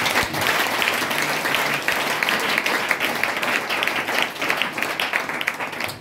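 A church congregation applauding during a Sunday worship service, sustained dense clapping from many hands filling the room at steady loudness for several seconds.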